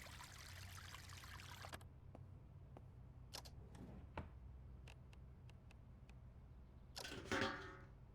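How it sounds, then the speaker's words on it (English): Sinks in the survival video game Vein fill from running taps, giving a steady stream of pouring water for nearly two seconds, then quiet clicks and ticks, then a brief louder gush of water near the end. "And let's fill these sinks."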